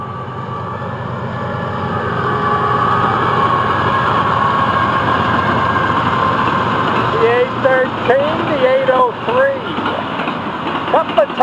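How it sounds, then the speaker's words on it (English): An FEC train locomotive rumbles past at close range with heavy, sustained engine noise, and a voice speaks over it as wavering tones rise near the end. "this train runs hard toward Fort Pierce to meet FEC's 202"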